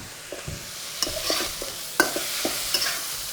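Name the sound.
stir-frying green beans with chili bean sauce and dark soy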